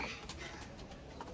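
Pigeons coo softly in a loft among breeding birds, low murmuring calls heard faintly against a busy background with some indistinct voice-like sounds.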